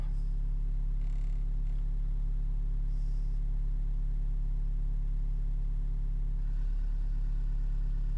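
Renault Mégane III dCi diesel engine running warm, a steady low rumble up close with a slight rise in pitch and a few faint clicks, no voices.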